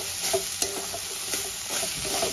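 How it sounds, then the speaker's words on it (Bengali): Spinach with prawns sautéed in a pan for a Bengali palong shak ghonto, with a steady soft sizzle, intermittent scraping stirs and a sharp clack near the start, close and moderately quiet with no talking. "এবার আমি ভালো করে কষিয়ে সুন্দর করে ভাজা ভাজা করে নেব।"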